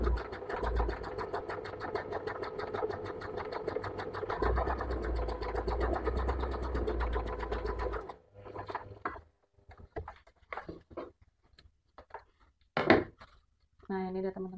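A sewing machine stitches a straight seam in a basic beginner's sewing lesson, a steady rapid whirring for about eight seconds before stopping, followed by scattered handling clicks and a soft bump, with no talking.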